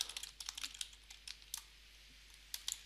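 Fingers tap on a computer keyboard in short bursts of quick, light clicks with brief pauses between, close by and faint.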